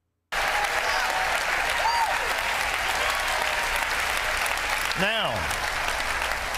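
Dense, continuous applause from a large audience at a religious gathering, holding steady and loud for several seconds while a voice speaks briefly over it.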